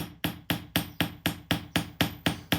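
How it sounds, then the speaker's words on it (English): A hammer strikes an iron knife blade to harden its edge, about ten sharp metallic blows in a steady, even rhythm, close and loud with no talking. "So a nice quick simple run and then back to hammering."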